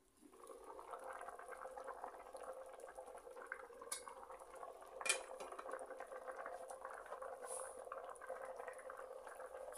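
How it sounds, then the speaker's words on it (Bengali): Khichuri bubbles toward a boil inside a rice cooker, a quiet continuous simmering burble with a couple of faint metallic clinks. "খিচুড়িতে বলক চলে আসছে,"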